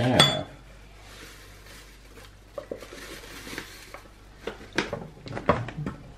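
A spoon clinks against a bowl while mixing, with a sharp clatter at the start followed by irregular light taps and scrapes that grow busier toward the end, close and fairly clear.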